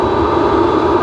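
Qantas Airbus A380 airliner at Sydney Airport, a steady loud roar of jet engines close by that holds even through a single brief moment.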